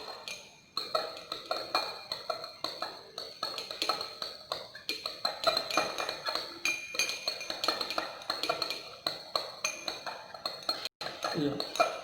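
A glass rod clinks and taps rapidly against lab glassware while stirring a solution after hydrochloric acid is added, giving many light, quick chinks at an irregular rhythm, close and fairly quiet.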